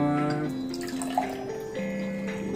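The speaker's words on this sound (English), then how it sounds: "So let's put some water." Water poured into a container for a children's density experiment, a close, continuous pour whose ringing tone shifts upward as the vessel fills.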